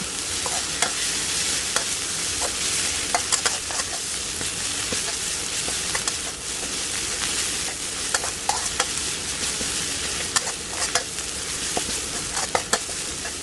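Chili and garlic stir-fried in hot oil, a loud, continuous close sizzle with scattered crackles and scraping spatula strokes throughout, no voices.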